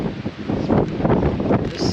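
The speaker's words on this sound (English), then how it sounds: "Now that wind picked up again." Wind gusting across an open farm in winter, a steady broadband roar with rustling swells, close to the microphone and unbroken for the whole moment.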